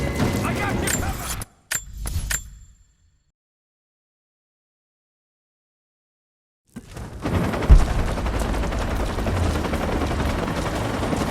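Gunfire in the Rise of the Tomb Raider video game, loud bursts and shots in a dense battle mix at the start, a few seconds of silence, then sustained combat noise with shouting voices.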